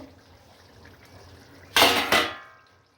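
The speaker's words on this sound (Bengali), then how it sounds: "এবার ঢাকনাটা খুলে দেখব" A cooking pot lid is lifted off while potato and pointed gourd curry cooks, giving two quick metallic clanks close by, the second slightly softer, over a quiet kitchen background.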